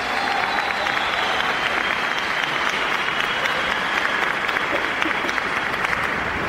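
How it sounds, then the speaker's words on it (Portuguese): A church congregation at a youth Catholic Charismatic Renewal gathering applauds after a Bible reading. The clapping is steady, dense and close, filling the space evenly throughout with a faint murmur of voices beneath. "Aplauda comigo esse texto da palavra de Deus"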